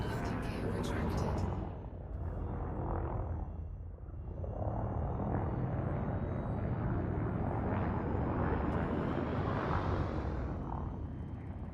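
An aircraft climbs after takeoff, a steady, loud roaring engine rumble that barely changes, with landing gear retracted.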